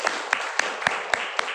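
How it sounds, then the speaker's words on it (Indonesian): Applause for Mas Coy from a small audience sounds as a few evenly spaced sharp claps, roughly four per second, over a diffuse background. "Tepuk tangan untuk Mas Coy."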